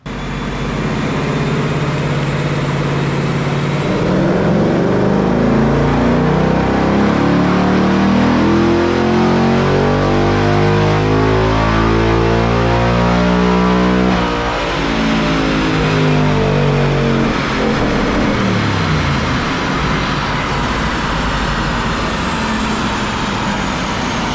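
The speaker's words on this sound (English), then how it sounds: "There's no reason you can't rev these out another at least 500 RPM." Ford S650 Mustang engine revving hard on a chassis dyno during a baseline pull, a loud continuous roar sweeping upward in pitch through the gears, peaking mid-run then dropping and settling into a steady drone, with no voices.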